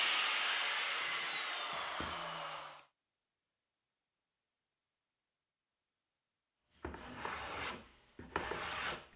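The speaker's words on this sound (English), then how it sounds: "I'm using a hand plane to soften all the hard edges" Hand plane shaving the hard edges off a wooden farmhouse bench, heard as scraping rasp strokes, one sustained pass, then silence and a couple of shorter close strokes.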